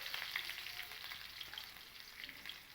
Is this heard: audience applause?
no